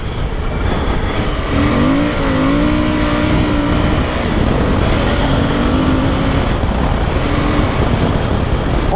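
A 2020 Suzuki V-Strom 1050 XT motorcycle rides a dirt trail, its engine droning loudly and steadily with rising and falling revs under strong wind rush.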